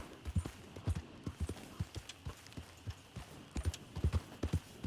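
Horse hooves clip-clop in a steady trotting rhythm in the video game Red Dead Redemption 2, the footfalls close and fairly soft over a low ambient background, with no talking.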